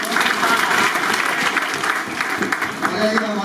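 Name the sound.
applause at a coaching institute result ceremony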